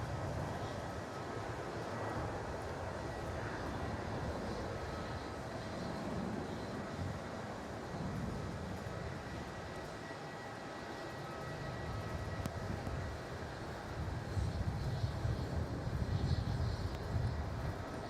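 An Airbus A320 jet landing at Melbourne Airport, heard as a steady, distant roar of aircraft engines that swells gradually and grows louder near the end.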